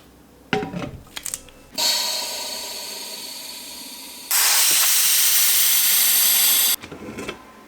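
A pressure pot holding an end-grain maple bowl filled with metallic green resin lets out loud, steady bursts of compressed-air hiss, two long blasts in a row after a few clanks and knocks of handling.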